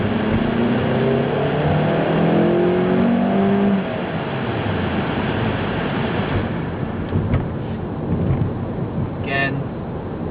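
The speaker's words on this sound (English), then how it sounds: "We're going to punch the gas all the way." A Scion car accelerates uphill at full throttle, its engine note rising in a strained, climbing whine for the first few seconds, then settling into a loud, steady road and engine rumble.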